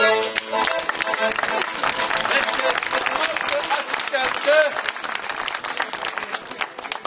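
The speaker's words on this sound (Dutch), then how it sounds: "aandacht en een applaus voor de enige, de echte, de onafvolgbare Luciano Il Magnifico" A theatre audience applauds a magician's act at the De Boddelkèèr 2017 event, with dense clapping that holds steady for several seconds, mixed with crowd noise and some tonal sound.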